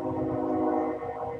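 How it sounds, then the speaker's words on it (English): A real train passing outside, heard as a steady low rumble with sustained tonal hum, moderately loud and continuous for the whole moment, with no talk over it. "Not the in-game train, but real-life train"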